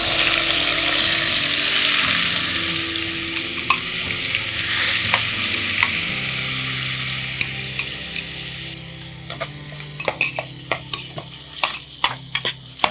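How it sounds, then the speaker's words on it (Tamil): Grated beetroot for halwa sauteing in a pan, a loud dense sizzle that gradually fades while a utensil stirs and scrapes, ending in sharp clatters against the pan. "இப்போ நம்ம இந்த பீட்ரூட் அதிலேயே போட்டுட்டு நல்லா அதை வதக்குறோம்"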